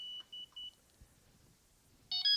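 A Delkim fishing bite alarm beeps during channel pairing: three short, evenly spaced electronic pips, a pause, then a louder burst of higher tones at close range.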